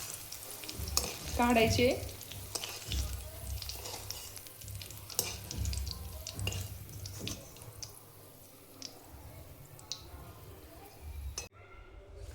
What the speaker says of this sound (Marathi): मिरची पण छान तळून घ्यायची. मिरची पण तळली आहे,